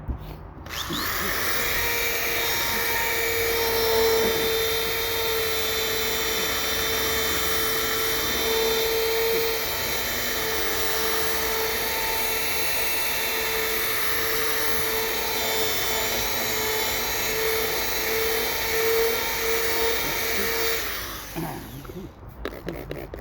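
A power sander works a dome with 1500-grit paper, running as a loud, steady whine with a high tonal hum for about twenty seconds before spinning down, heard close with no talking.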